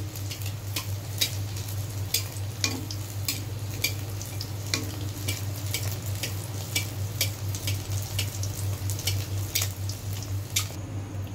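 A Mughlai paratha fries in hot oil over a gas flame as oil is spooned over the top, giving a steady loud sizzle with frequent crackling pops throughout and a low steady hum beneath.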